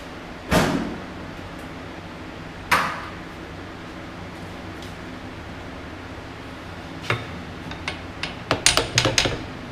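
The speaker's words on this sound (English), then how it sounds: "we're going to go get a small hammer and give that a tap" A small hammer taps a cast iron tractor generator case: two sharp, ringing strikes spaced apart, then a quick cluster of lighter metallic taps near the end, close and clear with no talk.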